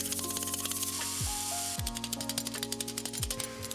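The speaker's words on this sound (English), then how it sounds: "I use a torch with the oxygen to heat up the rivet head" An oxygen torch roars in a steady, close, loud hiss while heating a rivet head at a blacksmith's forge, with clattering metallic clicks and short pitch-dropping tones throughout.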